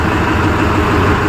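An Escorts Farmtrac 6055 4WD tractor of 2024 model year runs steadily with its diesel engine, a loud, close, even low rumble as it creeps along without the clutch pressed, no voices over it.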